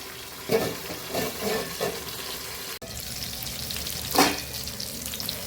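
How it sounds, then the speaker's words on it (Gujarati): Tomatoes cook in a covered pan for Kathiyavadi tomato chutney, giving a steady, close sizzle with a few soft stirring or turning knocks and a brief clatter partway through. "બે સાઈડ ફેરવતા ફેરવતા આપણે સરસ ટમેટાને પકાવી લેવાના છે"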